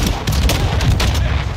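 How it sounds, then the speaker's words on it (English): Grenade launcher rounds fired in a first-person shooter game, a loud dense barrage of rapid thumping booms and blasts packed tightly together throughout. "he went ham with that grenade launcher"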